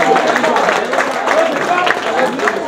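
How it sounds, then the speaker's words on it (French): Applause and cheering from an audience at a press dinner, a dense, steady wash of clapping that keeps its level throughout, with crowd voices mixed into the clatter. "Je vous prie d'applaudir Lucie Memba sur vos ovations"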